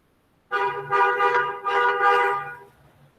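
A car horn honks outside in a long sustained blare with a few pulsing swells, clear and fairly loud, then cuts off abruptly.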